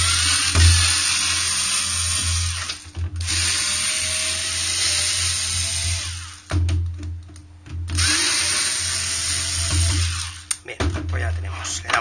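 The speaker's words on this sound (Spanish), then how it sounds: "Yo voy a utilizar un destornillador eléctrico para ir más rápido." An electric screwdriver backs the screws out of a fat PS2 console in several loud whirring runs of a few seconds each, broken by short pauses and clicks, close up and with no talking.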